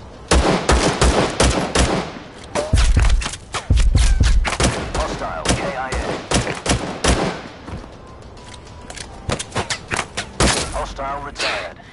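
Rapid bursts of enemy gunfire crackle in a shooter video game, loud clustered shots and automatic volleys repeating throughout, with a player talking over them.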